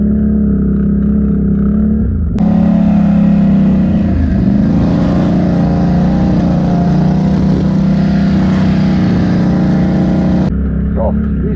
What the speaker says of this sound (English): Cracking the throttle,